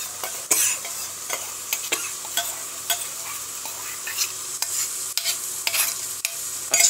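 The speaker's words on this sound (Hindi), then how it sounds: "इसको चलाएं और ये मैं चला रहा हूँ" Spinach being stirred into frying masala in a pan, a steady sizzle broken by repeated scraping, clattering spoon strokes at close range, with no talking.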